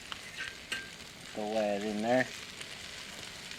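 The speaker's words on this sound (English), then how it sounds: "we got the fish on the frying pan" Crappie fish fillets fry in a pan with a soft, continuous sizzle and crackle, partly covered by a man's brief speech partway through.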